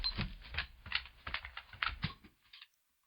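Sampled dog footsteps played back as a soft, irregular patter of light taps at close range, about a dozen quick steps in a row with no voice, ending in silence.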